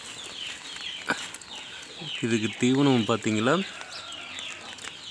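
Native fighting rooster of about 3 to 3.5 kilograms clucking in a short cluster of calls, close by, with someone speaking and outdoor background noise around it.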